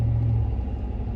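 A pickup truck driving, a low steady engine rumble heard from inside for a brief moment, with no talk.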